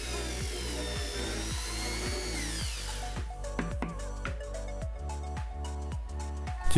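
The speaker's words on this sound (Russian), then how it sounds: "По краям фанеры делаем отверстие сверлом на 5," Power drill boring partway into plywood with a 5 mm bit, a steady loud whine with a dip in pitch partway through, under a regular pulsing thump from the drill.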